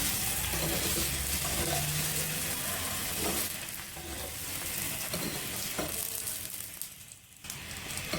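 Potato-stuffed Punjabi aloo paratha cooking with ghee on a griddle, a steady close frying sizzle with soft shifting and scraping, easing a little partway before picking back up.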